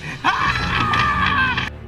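A single loud, strained scream from the 1985 film Mr. Vampire, lasting over a second, close and harsh, cutting off abruptly.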